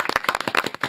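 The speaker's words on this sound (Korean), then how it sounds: "박수로 맞이합니다." A studio audience claps to welcome a guest: a quick, close run of about a dozen sharp hand claps in an uneven rhythm, short and loud.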